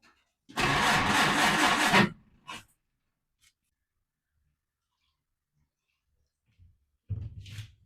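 A 1938 Peugeot 402 Légère is cranked in an attempt to start it, giving a loud burst of starter grinding for about a second and a half and a brief second try. Near silence follows, then another short crank at the end.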